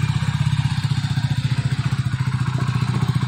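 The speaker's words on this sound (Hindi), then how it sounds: "लक्ष्य जा रहा है बाइक के ऊपर बैठ के" A motorcycle carrying a child pulls away, its mid-pitched engine chugging in a steady, fast pulsing rhythm at close range and fairly loud throughout.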